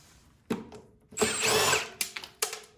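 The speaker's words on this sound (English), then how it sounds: "we gotta take off these two screws that hold that on" A power drill or driver backing screws out of a Craftsman M100 lawn mower, with a short burst, a longer whirring run, then several quick clicks and bursts, close and fairly loud with no talk.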